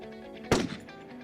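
A single rifle shot at a shooting range, one sharp, loud crack with a brief decaying tail over a steady low background hum, no speech.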